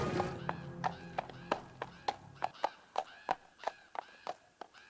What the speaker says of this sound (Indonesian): ia yang melihat seekor kuda memutuskan untuk mengendarainya